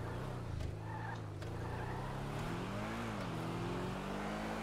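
Bugatti Chiron in GTA 5 accelerating hard, its engine note rising steadily with a brief dip and climb again, loud and close throughout with no talking.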